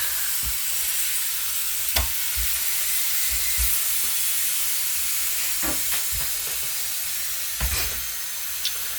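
Pecans browning in a hot pan give a steady soft sizzle with occasional stirring scrapes and clinks, close and continuous throughout.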